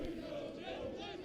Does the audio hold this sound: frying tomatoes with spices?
no